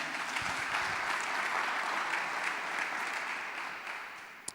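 Sustained applause from a large church congregation indoors, dense and even, slowly fading toward the end.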